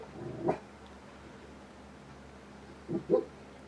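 A dog gives two brief yelping, whimpery vocal bursts, one early and a double one near the end, fairly faint over a quiet background hum.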